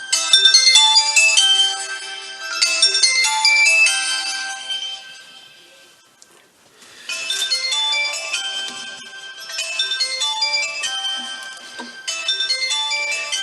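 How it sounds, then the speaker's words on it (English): A phone ringtone goes off during sugar chrysanthemum making, a bright melodic jingle of chiming notes played loud and close in two long phrases with a brief pause between, no talk over it. "excuse me, phone going off here."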